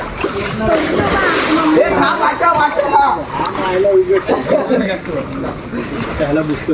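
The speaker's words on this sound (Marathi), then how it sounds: "हार्दिकने उडी मारले" Water splashing in a village well as a person jumps in to swim with friends, steady sloshing and splatter close by under excited overlapping voices and laughter.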